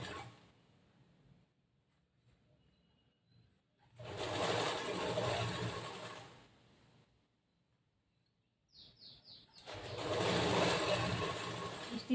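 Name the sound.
sewing machine stitching a boat neck blouse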